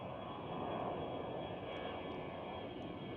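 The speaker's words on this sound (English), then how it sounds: "right over here is an EasyJet leaving." An EasyJet airliner taxis out at Amsterdam Schiphol airport, its jet engines giving a steady, distant roar and whine that holds evenly throughout.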